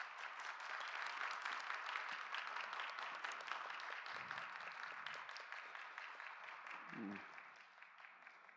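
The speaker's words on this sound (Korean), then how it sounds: "박수로 환영하도록 하겠습니다." A church congregation at a Sunday young-adults worship service claps steadily and loudly to welcome pastors being introduced, the dense applause running throughout and easing slightly near the end.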